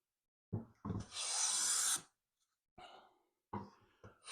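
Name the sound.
Stanley Bailey hand plane taking a shaving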